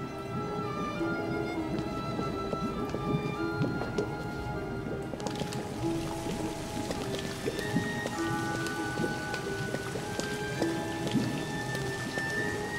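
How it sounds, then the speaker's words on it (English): Heavy rain pours continuously in the video game Doctor Who: The Eternity Clock, a dense patter with scattered drops and a low rumble beneath, steady throughout with no talking. "Never seen rain this bad."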